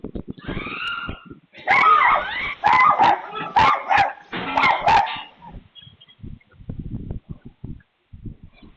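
A guard dog barks repeatedly at giant lizards, loud close bursts of barking with whimpering yips, followed by quieter scattered noises.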